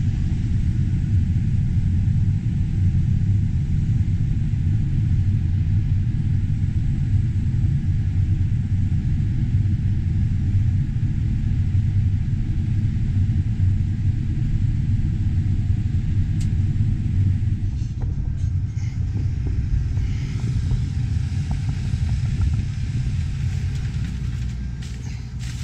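Tractor pulling a grain cart beside a combine during corn harvest, a heavy continuous engine rumble from inside the cab, steady and loud, easing slightly toward the end.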